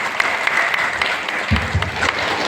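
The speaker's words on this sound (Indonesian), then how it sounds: "tepuk tangan" Applause from a village gathering welcoming an official in Tanggerang, Jelai Hulu, steady and fairly close, with a brief low rumble partway through.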